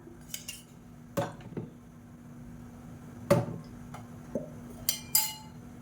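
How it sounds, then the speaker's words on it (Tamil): A metal pan clinks as it is set down in a kitchen and ghee is spooned in for cooking Tamil pooranam kozhukattai, giving sparse, faint clinks and taps against a steady low hum. "இப்போ ஒரு பேன் எடுத்துக்கலாம் இதில் வந்து நல்லா நெய் சேர்த்துக்கலாம்"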